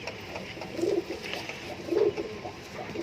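Fancy pigeons in a loft coo softly several times, with low, rounded calls over a quiet background hum.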